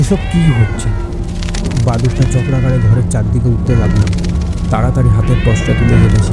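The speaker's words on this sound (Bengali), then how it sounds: "দেখলাম যে দিক থেকে বিড়ালের কান্না আসছিল" A cat cries in drawn-out, wailing meows, three or four loud calls rising and falling, while a person narrates over them.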